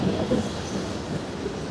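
A metro train on the way to Kengeri rumbles along the rails, a loud, close, continuous roll with faint wheel clatter and no talking.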